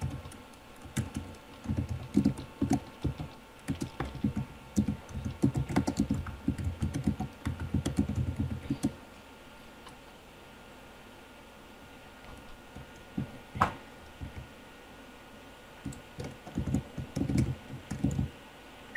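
Rapid typing on a computer keyboard, with dense clattering bursts of keystrokes for several seconds, a pause, then more scattered key presses and another flurry near the end.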